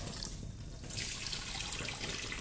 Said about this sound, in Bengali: আমি আগে একবার ধুয়ে নিয়েছি, আবার একটু ধুচ্ছি